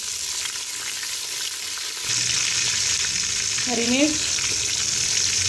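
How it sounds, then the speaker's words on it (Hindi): Onion, tomato and green chilli fry in a pan with a steady loud sizzle, and a brief stirring scrape comes partway through. A short spoken phrase sits under the frying. "और इसे अच्छे से हम फ्राई कर लेंगे"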